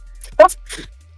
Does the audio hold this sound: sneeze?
yes